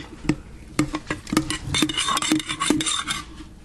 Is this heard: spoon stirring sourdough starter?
yes